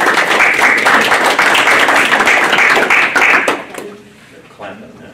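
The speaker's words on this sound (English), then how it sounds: "Clapping now." Audience at a monthly club meeting breaks into loud, dense applause, many hands clapping close and steady before it tapers off abruptly into quiet room tone.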